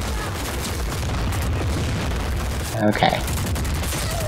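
Just Cause 4 gunfire at a shipment booms beneath a dense, rumbling wash of game noise, with a louder burst near the middle, while a player briefly speaks over it.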